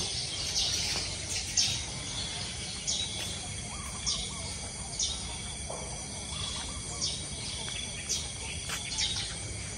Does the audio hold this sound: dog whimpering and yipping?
no